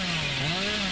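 Hillbilly's chainsaw in Dead by Daylight revs in a steady, loud, buzzing drone across the whole moment, with a low engine tone that wavers slightly and no voices.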